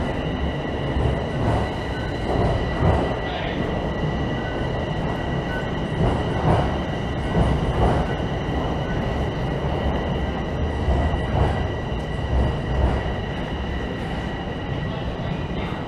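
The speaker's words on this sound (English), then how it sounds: "Well, I could have got on that train." A Toronto subway train passes through an underground station, rumbling and clattering with steady wheel squeal and high-pitched tones, loud and sustained.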